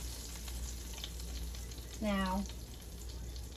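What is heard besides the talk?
vegetable oil and butter sizzling in a frying pan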